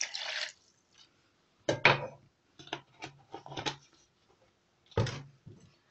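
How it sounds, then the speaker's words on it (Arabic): Juice from three squeezed lemons and half a cup of vinegar drips and splashes in short, separate bursts onto an onion mixture, with small kitchen clatters between the pours. "هعصر عليها الليمون، 3 ليمونات ونص كوباية خل"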